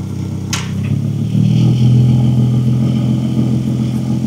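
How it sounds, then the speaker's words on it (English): A Porsche Panamera engine in sport mode rumbles loudly and deepens as it revs up, holding a throaty, steady exhaust drone. "So now your exhaust is louder."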